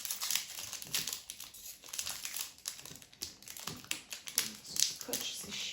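A Pokémon card booster pack wrapper crinkles and crackles up close as it is opened, with bursts of plastic rustling and small taps between pauses.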